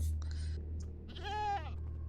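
Goats bleat in the Minecraft video game, a couple of short wavering cries over a low steady game hum, moderately loud and without talk.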